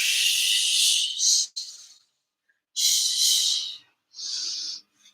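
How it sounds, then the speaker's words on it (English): Deep breathing with full exhales during a home Pilates workout, two long forceful breathy exhales and a shorter third, close and airy with short silent gaps between. "Just keep deep breathing. Full exhales."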